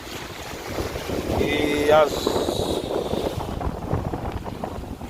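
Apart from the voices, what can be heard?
strong wind at sea on a boat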